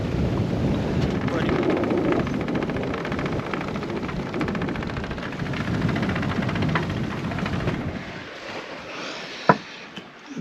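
Strong wind of around 22 knots roars over an anchored sailboat, a loud continuous rushing buffet with gusty swells that eases near the end, broken by a sharp knock.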